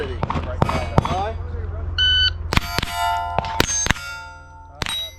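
Electronic shot timer at a Steel Challenge shooting match gives a steady beep of about half a second, followed by a rapid string of sharp, loud gunshots ringing off steel plates.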